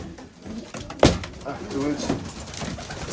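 Pigeons in an 8 by 5 foot loft section, with soft cooing and light wing or shuffling noises mixed with a brief clatter, heard close under a man's speech.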